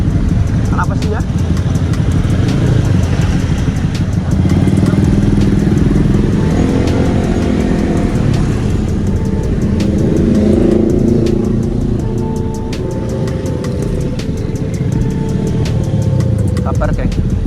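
Motorcycles and cars sitting in a traffic jam, loud close engine rumble and idling with occasional revving and clatter, continuous throughout, with a voice talking over it.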